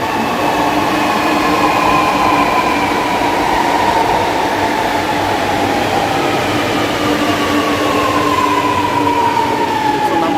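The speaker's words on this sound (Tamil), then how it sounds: "நம்ம ட்ரெயின் வந்து ஆப்போசிட்ல போகும்." A Chennai Metro train pulls into CMBT station with a loud, continuous whining hum and rumbling wheel noise, its pitched motor tones sliding gradually lower as it slows.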